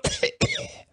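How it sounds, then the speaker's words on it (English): A single person gives a short double cough, close and loud, in a dry bark that breaks off after under a second. ""How long have you had that cough?""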